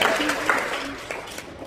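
Audience applause at a dental teaching lecture, a short burst of scattered clapping lasting under two seconds, with voices murmuring underneath.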